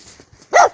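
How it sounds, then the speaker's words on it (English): A pet dog lets out a single short, sharp bark near the end of a quiet moment, close and fairly loud, after faint room sounds. "Bark if you love me."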